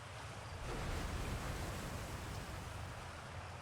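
Ocean waves in the video game Outer Wilds roll as a low, steady wash of surf with a gentle swell, faint and continuous, with no talking.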